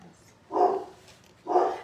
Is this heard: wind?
no